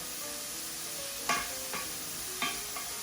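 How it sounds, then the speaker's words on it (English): Onions sweating down in a stainless steel pan give a steady soft sizzle, with a few brief scraping stirs of a utensil in the middle and near the end. "just a minute or two, the onions are sweating down"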